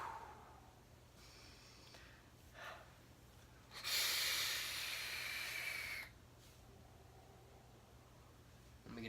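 A long exhaled breath of vapor from a Wismag vape hisses out for about two seconds, a broad airy rush standing out from quieter breathing and faint room noise.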